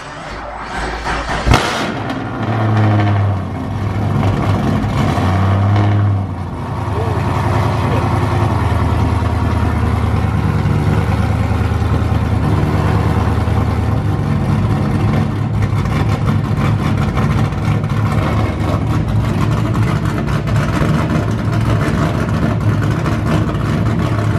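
A car engine with a custom intake fires up with a sharp burst, revs loudly a couple of times, then settles into a deep, throaty, steady rumble close by.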